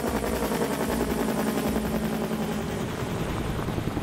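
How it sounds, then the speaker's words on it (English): Firefighting helicopter flying over a fire during a training water drop, a loud continuous rotor thump and engine roar held steady and close throughout. "a stitch drop is used as the helicopter flies in a direct path over a fire."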